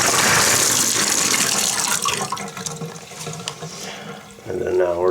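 Water gushes from a tub shower faucet to purge air and debris after water heater work, a loud steady rush that thins slightly before surging again at the end.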